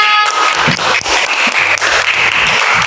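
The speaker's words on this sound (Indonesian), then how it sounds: "Kita beri tepuk tangan untuk kelompok 3." Classroom applause for a group's science presentation on vegetative plant reproduction, a burst of many hands clapping that stays dense and lively throughout.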